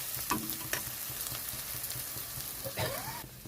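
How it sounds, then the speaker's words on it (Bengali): Spice masala with onion and tomato frying in oil for a chenga fish curry, a softer crackling sizzle broken by a few scraping stirs of the spoon. "এখানে আমার মশলাটা ভালো মতো ভাজা হয়ে গেছে"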